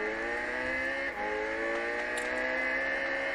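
The McLaren MP4-12C in Gran Turismo 6 drones with a steady, high-pitched engine note as it holds revs through a corner at Bathurst, sounding close and constant with a brief dip partway through and no talking.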